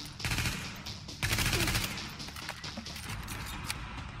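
Sustained automatic gunfire from Tom Clancy's The Division, dense rapid bursts filling the whole stretch, loud and close, with heavier volleys near the start and middle and no talking.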